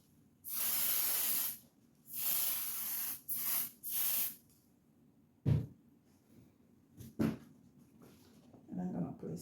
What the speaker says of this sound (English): I'm going to go ahead and I'm going to spray.